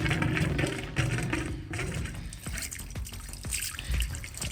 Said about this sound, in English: You can actually hear that. So what that's doing, that mains water is going around that loop. And then it's just being pushed out of here.